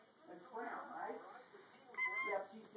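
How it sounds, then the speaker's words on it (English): A kitten gives a couple of short, faint meows, one near the start and a higher one toward the end, amid quiet indoor sound. "Is that kitty biting you?"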